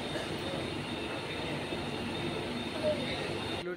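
A Mumbai local train at Thane station in the early morning, a steady close rumble of rolling rail wagons with faint wheel squeal and a high whine, continuous throughout.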